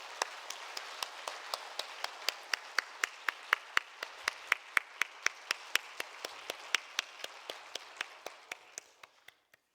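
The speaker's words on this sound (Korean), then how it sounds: "다시 한번 우리 감사의 박수 하도록 하겠습니다" A church congregation gives thanks with applause at a Wednesday evening worship service. Steady, evenly spaced claps ring out over a soft crowd wash for nearly ten seconds, then stop.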